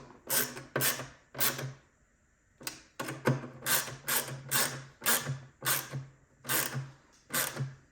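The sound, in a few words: tightening bolts on a Hiwatt DR103 amplifier top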